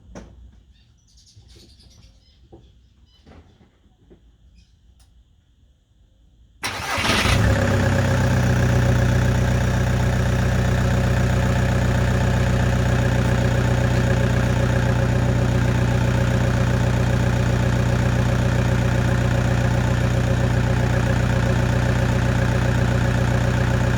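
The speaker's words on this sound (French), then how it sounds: "coup de clé au démarrage pour voir si la courroie est bonne" After a few seconds of quiet birdsong outdoors, a Volkswagen Golf engine with a newly fitted accessory belt starts abruptly and settles into a loud, steady idle that drowns out everything else.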